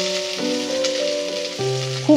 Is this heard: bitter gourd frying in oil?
yes